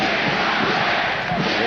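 Roughly twelve thousand fans in a boxing arena cheering loudly for heavyweight John Tate in a 1980 bout, a dense unbroken crowd roar.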